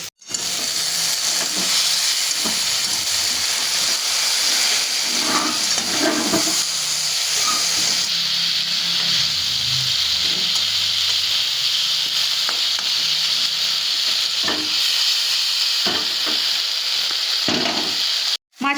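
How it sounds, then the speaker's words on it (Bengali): Loud, steady sizzling of catla fish frying in hot oil, a continuous crackling hiss with occasional spatters and faint stirring, lasting throughout. "এবার খানিকক্ষণ মাছের এক পিঠ ভাজা হয়ে যাক তারপর আমি উল্টে অন্য পিঠ ভালো করে ভেজে নেব"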